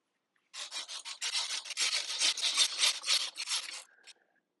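A 5mm Allen wrench backs out a skid plate bolt on a CFMoto Ibex 800 motorcycle. A steady, close scraping rasp of the turning bolt lasts about three seconds in rhythmic pulses, then stops, with no talking.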